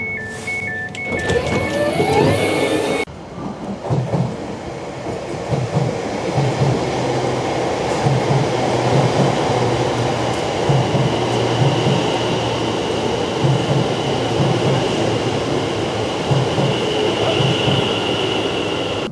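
Passenger train running on an Essex railway line toward London Liverpool Street, heard from inside the carriage as a loud, steady rumble with rhythmic wheel clatter, after brief tonal chimes at the start.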